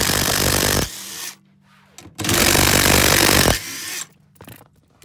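Power tool driving a 14 mm socket on the front seat bolts of a 2014+ Toyota Tundra, in two long loud whirring bursts separated by quiet gaps, close up with no talk.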